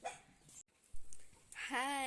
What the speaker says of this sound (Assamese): কুকুৰটো ভুকি আছে।